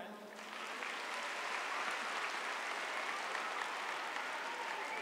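An audience at a live comedy mimicry show breaks into sustained applause, a dense wash of clapping that swells after a brief start and holds steady, heard from within the crowd.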